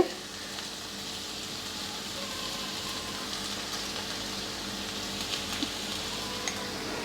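Carrot and fresh coconut fry in a pan with chili powder, uncovered, a steady soft sizzle running evenly throughout with a few faint clicks near the end and no talk.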